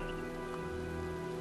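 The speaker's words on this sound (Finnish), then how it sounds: "looks like a storm's coming" Steady rain patters in the video game Heavy Rain, a faint, even hiss of drops with a low tonal hum beneath it, and no talk.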